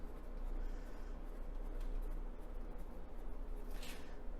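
Pencil or pen drawing on watercolor paper, a soft continuous scratchy scraping at low level, steady throughout with no talk.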